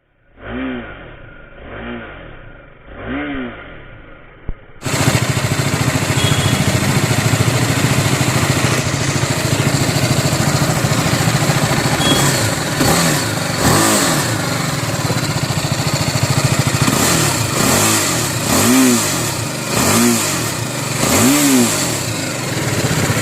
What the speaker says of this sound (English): So now as you can see that I'm riding this BMW G310R, and this bike is actually small and lightweighted